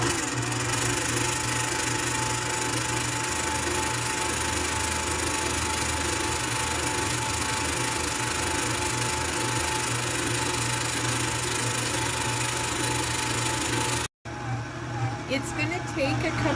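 A stand mixer runs on low while kneading bread roll dough, a steady whirring motor hum under continuous talking, then briefly cutting out near the end.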